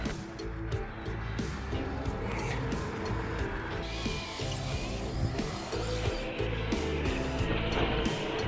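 A Losi Baja Rey 1/10 scale RC truck runs at full throttle over sand, its electric motor whining steadily with gritty scraping and rubbing from the tires, continuous and fairly close, with no talk.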